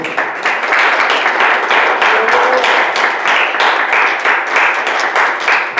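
A church congregation applauds during a sermon service, a loud, dense burst of clapping from many hands that carries steadily on its own for several seconds.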